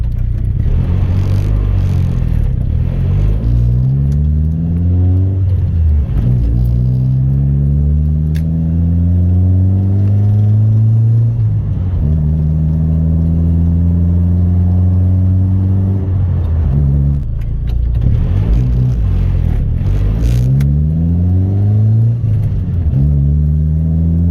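A tuned Audi A20 engine revs repeatedly during a tuning drive, rising in pitch under throttle jabs and falling back on deceleration in several loud, close cycles, with no talking.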